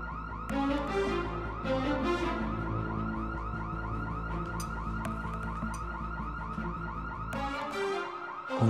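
A house alarm rings continuously and loudly throughout, a steady electronic wail with repeating sweeping tones, cutting off near the end.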